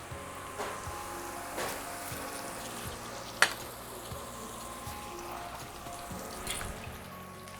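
Raw green mango pieces frying in oil with five-spice tempering for a sweet-sour pickle, a soft continuous sizzle with faint stirring clicks and one sharp clink partway through, no talking.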